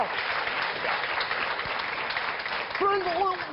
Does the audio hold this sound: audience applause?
yes